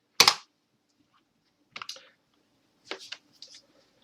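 Keys clack on a computer keyboard in a few short, separate bursts with quiet pauses between them, close and crisp, as a command is typed.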